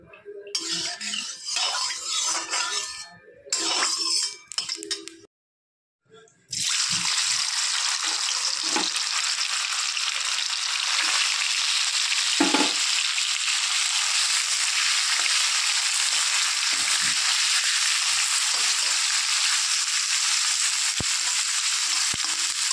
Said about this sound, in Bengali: ভাজা হয়ে গেছে, এখন পনিরগুলোকে উঠিয়ে নেব